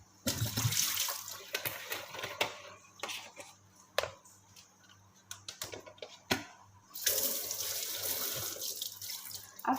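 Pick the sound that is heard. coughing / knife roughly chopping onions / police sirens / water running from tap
water running from tap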